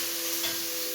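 Onions drop into a hot pan and sizzle in a steady, close, broadband hiss with a faint tonal hum beneath, for about a second with no talk.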